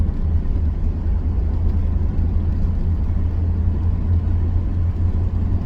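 A 1991 Camaro RS with 55k miles cruises along, its engine a steady low hum and whir with constant road rumble, heard from inside at an even level throughout.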